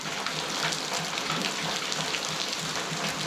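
Steady rain pouring down on a rural cattle farm, a dense broadband hiss with scattered drop patter that stays even and fairly close throughout, with no voices over it.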